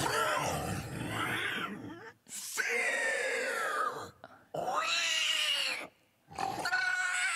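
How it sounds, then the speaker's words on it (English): Harsh, distorted animal screams and squeals from the scarecrow demon Fiddlesticks in the League of Legends video game, coming in several loud, drawn-out bursts separated by brief silences. "How does he do the animal screams?"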